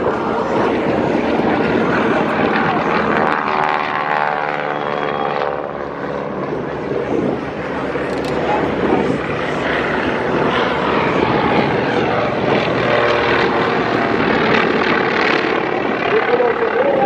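A T-6 propeller airplane starts its takeoff run at an air show, its engine roaring steadily and close with a rising drone, while a commentator talks over it throughout.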